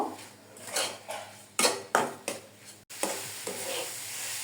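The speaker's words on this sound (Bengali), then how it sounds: "এখন সুন্দর করে মিক্স করে নেব।" Semolina being stirred into a jaggery-coconut filling in a wok: repeated close, scraping stir strokes in a loose rhythm over a soft background hiss, with no one talking.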